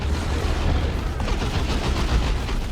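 Tank shells from a Leman Russ slam into an Ork Warboss in Dawn of War 2: Retribution, a continuous barrage of booming impacts and gunfire rumbling through a chaotic battle.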